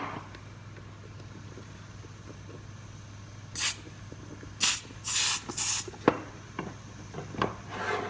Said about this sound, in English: if I add a tiny bit of air